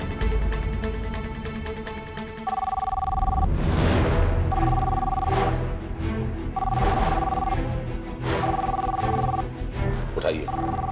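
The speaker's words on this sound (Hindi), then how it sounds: "उठाइए, फोन उठाइए, हो सकता है शायद सिमरन का फोन हो" A telephone rings repeatedly in regular bursts, sounding over dramatic background music with occasional booming hits.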